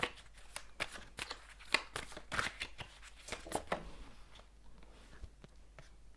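Tarot cards shuffle close up in quiet surroundings, with a run of crisp riffling snaps and slaps that thin out toward the end.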